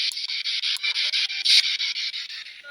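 An SB7 spirit box radio sweeps through stations in an abandoned building, producing a choppy, rapidly pulsing hiss of static bursts, steady and fairly loud with no clear speech.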